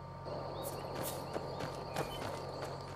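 Horse hooves clip-clop in the Skyrim video game near a stable, a steady run of soft, fairly faint hoofbeats over a low ambient game backdrop with music-like drones.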